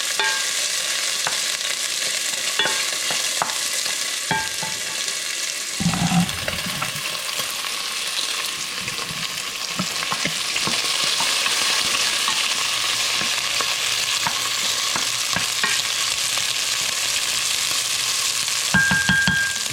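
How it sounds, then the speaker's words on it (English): Pork frying in a pan for kimchi jjigae, rendering fat as it browns: a steady, loud sizzle carries on throughout, with occasional scrapes and clinks of stirring, no voices. "let this pork render some fat and kind of develop a little crust."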